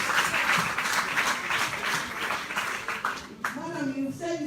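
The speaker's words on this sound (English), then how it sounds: "And let's give a round of applause again to our first lady." A crowd claps loudly and continuously for the First Lady of Sierra Leone at a formal event, then the applause thins out and a voice begins speaking near the end.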